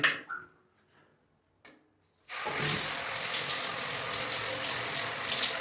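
After a few faint knocks and clicks, an electric shower in an apartment bathroom bursts on and runs steadily, a loud continuous hiss of heated water spraying close by.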